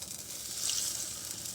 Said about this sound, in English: So you're looking for it to sizzle like that right off?